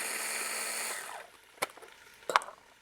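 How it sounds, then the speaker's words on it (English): A small kitchen food processor chopping garlic whirs loudly for about a second and then winds down, followed by two sharp clicks or knocks of the lid and bowl in the quiet that follows. "I'm going to put that right into my little trusty machine here and whiz that up"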